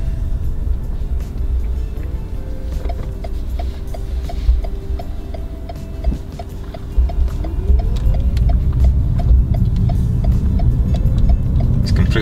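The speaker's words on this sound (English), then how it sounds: "Upon takeoff, it uses an electric motor up to about 30 miles per hour and the petrol engine kicks in." A 2019 Lexus IS 300h hybrid hums steadily with rhythmic ticking on electric power, then the petrol engine kicks in, a deeper note swelling and rising in pitch as the car speeds up.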